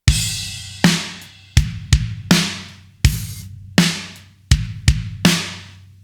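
Electronic drum kit hits, about a dozen sharp strikes mixing punchy low thumps with bright cymbal-like splashes, each ringing out briefly, played alone in a loose groove.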